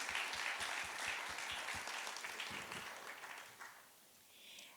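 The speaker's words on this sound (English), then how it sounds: "So can we give one more big round of applause to all of our panellists?" Audience applause for the panellists at an annual forum, a steady wash of clapping at moderate distance that gradually thins and fades over about five seconds.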